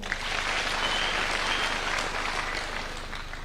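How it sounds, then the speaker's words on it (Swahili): A crowd gathered for a political address claps steadily, a dense wash of applause that fills the whole stretch, moderately loud and sustained, with a faint voice at most. "Tujipigie makofi."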